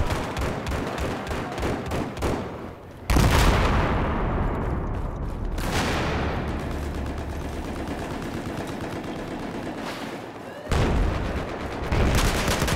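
A flashbang grenade detonates during a first-person shooter match: rapid gunfire rattles, then a sudden loud bang with a lingering ring, followed by more scattered shots and booms.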